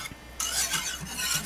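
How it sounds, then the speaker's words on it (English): Turkey pot pie filling stirred in a pot over just-above-medium heat, a continuous rasping scrape of spoon against the pot bottom with rhythmic swishes, close and alone. "I usually heat it just above medium and keep stirring so it doesn't stick"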